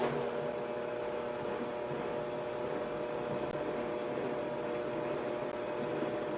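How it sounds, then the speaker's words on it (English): A blender runs steadily on speed 3 through no-carb bread batter, a constant loud motor whir and hum holding for about six seconds without a break. "blend that for 10 seconds"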